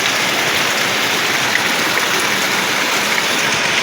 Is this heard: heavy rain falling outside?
yes